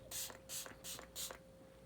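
Four short, even hisses of a setting spray misted onto a face during a drugstore makeup routine, close and soft, evenly spaced with brief pauses between them.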